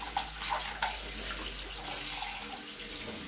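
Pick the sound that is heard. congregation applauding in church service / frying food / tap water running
tap water running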